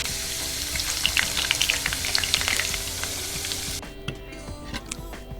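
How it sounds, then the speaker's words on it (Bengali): Potato pieces fry in hot oil for kacchi biryani, a dense, steady sizzle with scattered crackling pops, close and fairly loud, easing to a quieter, sparser sizzle near the end. "2-3 মিনিট আমি এটাকে শুধু একটু লাল করে ভেজে নিয়েছি"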